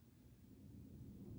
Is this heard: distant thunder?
yes